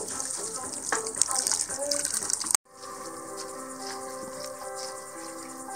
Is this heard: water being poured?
yes